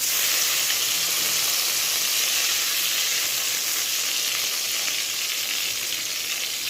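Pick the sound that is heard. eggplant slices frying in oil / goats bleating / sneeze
eggplant slices frying in oil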